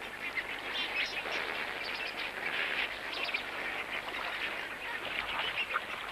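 A large flock of greater and lesser flamingos on a soda lake, heard as a dense, continuous chorus of honking, goose-like calls blending into a steady wall of sound, with no gaps throughout.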